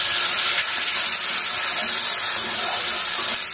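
Turmeric and a coriander-fennel paste hit hot oil, giving a loud, continuous, hissing sizzle that holds steady without pause.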